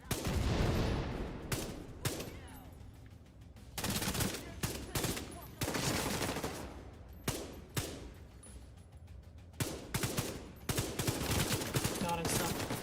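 Dense volleys of gunfire from The Division 2 mix sniper rifle shots with rapid turret fire in close, loud bursts. The bursts are separated by short lulls and run steadily across the whole stretch.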